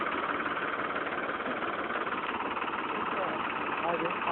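A motor runs steadily throughout a potato harvest in the fields near Ovacık, Niğde, Turkey, giving a dense, continuous mid-range engine drone with voices mixed in.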